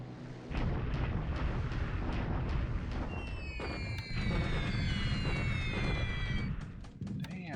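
Flak bursting during airfield strikes in a World War II strategy game, a dense continuous barrage of booming explosions with whistling tones sliding over them, loud and sustained.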